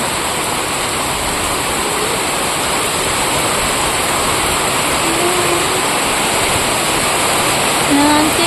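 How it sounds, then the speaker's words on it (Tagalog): Heavy rain pours down in a steady, dense roar that fills everything without a break, loud and close, with faint voices now and then. "Ulan na talaga dahil."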